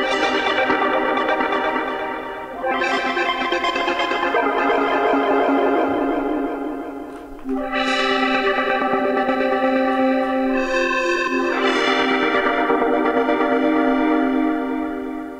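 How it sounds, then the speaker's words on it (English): Lush, evolving synth pad built in Phase Plant: slow swelling chords with a soft, wide shimmer, changing every few seconds, sustained and full with no voices over it. "a super lush sounding pad that sounds like this"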